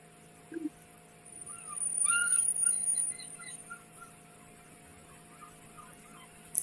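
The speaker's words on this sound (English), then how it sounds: "Seagulls in the back, I hear?" Seagulls calling on a coast, faint and distant, with a few thin cries clustered in the middle over a quiet, steady background hum.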